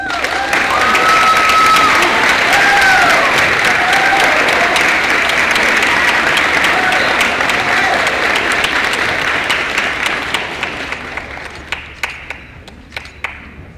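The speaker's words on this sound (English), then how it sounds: "Please give a huge round of applause for the one and only C4 Corey Campbell." An audience at a high school senior awards ceremony breaks into loud, dense applause that holds steady and then thins out into scattered claps near the end, with a few voices and a brief cheer mixed in.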